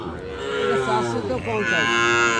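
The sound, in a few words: young heifer cow mooing at a cattle market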